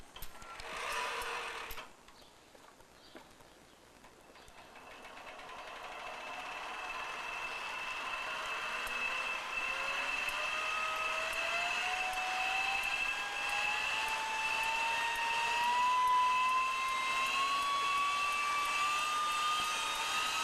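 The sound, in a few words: small jet engine being cranked and started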